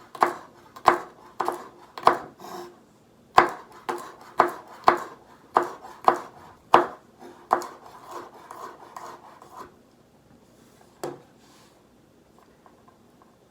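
Knife chopping garlic scapes on a cutting board in a home kitchen, a run of about a dozen crisp, evenly spaced cuts that slow and fade out, close and clear with no talking.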